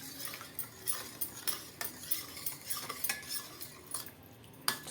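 A spoon scrapes and clinks against a bowl while ginger garlic paste and carom seeds are stirred into a mixture, a quick irregular series of close, fairly quiet metallic taps and scrapes.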